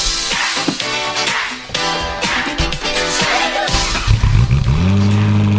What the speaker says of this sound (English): I heard a crazy noise and boom, the Senna passed by.